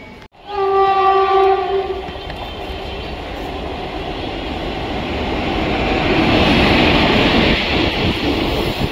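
A train arriving at a railway station sounds a loud, sustained horn blast up close, then its heavy rumble and clatter build and keep rolling steadily.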